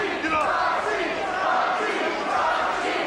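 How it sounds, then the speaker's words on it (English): A wrestling crowd cheers and yells loudly in a sustained, dense roar of voices that stays at full volume for the whole stretch. "Listen to the crowd!"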